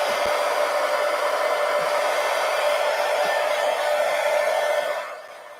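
A hair dryer blows on fresh paint, a loud steady whooshing roar with a constant tonal whine that drops away abruptly at the end as it is switched off.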